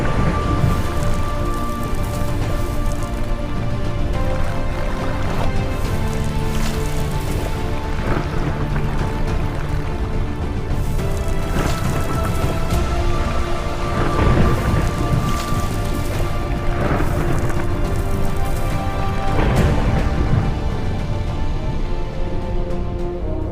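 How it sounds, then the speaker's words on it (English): Simulated hurricane in an aquarium: dense, constant rain pounding the surface with bursts of heavier splashing and low thunder-like rumbles, loud and close throughout with no voices. "I was about to simulate a hurricane."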